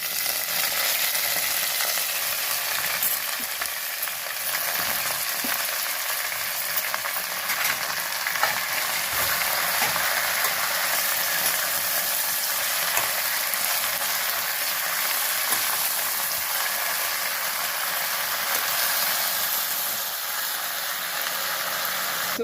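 Gongura (sorrel) leaves hitting hot oil in a pan with curry leaves, giving a loud, steady, close sizzle with faint stirring scrapes throughout, no talking.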